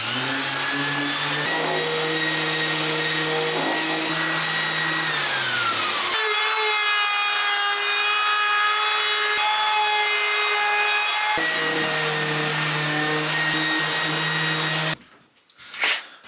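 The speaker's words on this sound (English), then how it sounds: "I've got some 120 grit, it looks like, in the sander. We'll sand the edges up." A power sander fitted with 120 grit abrasive runs loud and steady along the edges of a wooden board, its motor pitch shifting between passes, then cuts off abruptly near the end.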